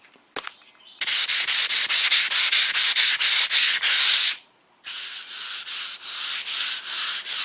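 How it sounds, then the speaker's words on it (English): Block sanding a cracked dash pad from a box Chevy Caprice with 80-grit paper on a Dura-Block: loud, close, rhythmic back-and-forth strokes in a steady run, a brief pause, then another series of strokes, with no talking. "I'm gonna go ahead and get me some 80 grit on my Dura block and just block it."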